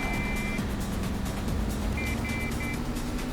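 Traffic trucks and cars in the racing game Midnight Club: Street Racing give a dense, steady engine roar, with short electronic beeps cutting in near the start and again toward the end.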